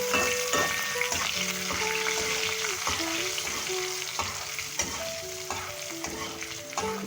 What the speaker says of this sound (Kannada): ಇದು ಸ್ವಲ್ಪ ಸಾಸಿವೆ ಸಿಡಿಲಿಕ್ಕೆ ಶುರುವಾಗಿ ಅಷ್ಟೊತ್ತಿಗೆ ಹಸಿಮೆಣಸು ಚೆನ್ನಾಗಿ ಫ್ರೈ ಆಗುತ್ತೆ